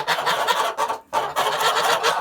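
Young Kholmogory geese cheep and honk continuously, nearby and fairly loud, with a brief pause partway through.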